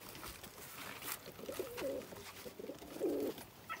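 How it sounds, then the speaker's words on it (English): Pigeons and doves cooing on a Jamaican farm, several soft low coos in short bursts against a faint outdoor background. "In here I have rabbits and birds, pigeons living together, and dove."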